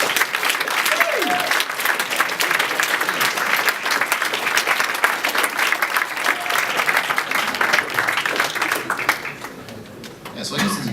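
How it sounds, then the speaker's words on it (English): An audience at an improvisational groove orchestra talk-and-play session applauds loudly and steadily for about ten seconds, with brief voices mixed in before the clapping thins at the end. "Give yourselves a round of applause!"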